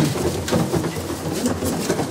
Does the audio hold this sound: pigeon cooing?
yes